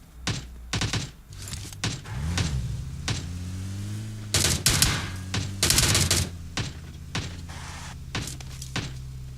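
Bursts of gunfire in the mobile battle-royale game PUBG Mobile, sharp repeated shots in uneven clusters, some rapid automatic volleys, over a steady low in-game hum with no talking.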